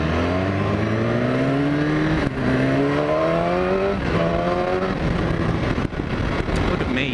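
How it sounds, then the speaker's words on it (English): A Yamaha R1 superbike engine howls close and loud, its pitch climbing steadily, then blipping and stepping down through a manual downshift with repeated rising rev sweeps. "Ooh, a manual downshift."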